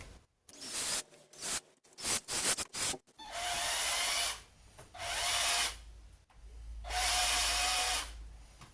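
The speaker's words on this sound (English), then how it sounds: "putting a little piece in the drill, and you can kind of drill it through" A few quick clicks and handling noises, then a power drill spinning a small plastic piece whirs in three sustained bursts separated by short pauses, close by, during work on a Reliant Kitten car.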